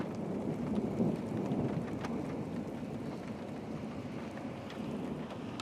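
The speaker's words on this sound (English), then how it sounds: "You hear the thunder now." Low, rumbling thunder from an approaching storm rolls beneath steady rain in a wooded area of Wisconsin, a continuous distant roar at moderate level with no voices.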